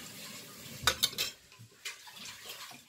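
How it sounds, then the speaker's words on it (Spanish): Utensil clinking against a dish while steak is stirred and turned in flour, a quick cluster of three bright scraping clicks followed by softer, scattered stirring sounds nearby, no talking. "Vamos a revolver un poquito."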